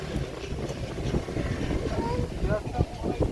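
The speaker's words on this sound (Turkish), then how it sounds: "Çok rüzgar geliyor Bora." Steady rumbling wind buffets the microphone throughout, with faint voices underneath the gusty roar, near a fire.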